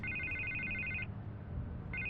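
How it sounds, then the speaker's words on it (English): A telephone rings in two electronic trilling bursts separated by a short pause, moderately loud over a low background rumble in a Batman game scene. "I can't get the phone to stop ringing."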